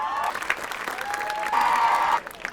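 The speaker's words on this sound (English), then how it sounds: "Join me in another round of applause" Sustained crowd applause at a high school football game's Hall of Fame ceremony, steady clapping across the whole stretch, swelling louder near the end before dropping off, with a tonal hum underneath.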